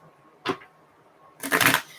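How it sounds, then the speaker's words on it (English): Tarot cards are shuffled in two quick bursts: a short riffle flick near the start, then a louder, longer shuffle a second later, close and without talk. "One more shuffle."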